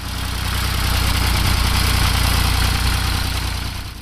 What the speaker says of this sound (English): Number 4, the Ford 3000 diesel.